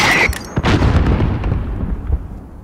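Mortar explosion in Call of Duty Modern Warfare Remastered: a loud, close blast at the start, then a heavy rumbling boom that slowly decays over a couple of seconds, with a second thump partway through.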